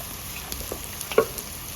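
Eggs frying lightly in oil in a home kitchen with chopped ginger and garlic, a soft steady sizzle with a few small pops and a stir clink, fairly quiet and close, no talk.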